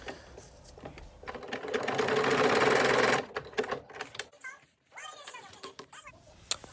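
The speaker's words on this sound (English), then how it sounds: "Time to place it on the jersey, and then from there start stitching." A sewing machine stitches a custom NBA/WWE jersey in a rapid, buzzing run lasting about two seconds, close and fairly loud, followed by quieter handling noises and a voice speaking.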